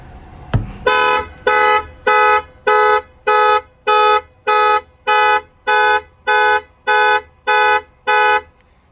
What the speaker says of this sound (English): That will fire off the alarm.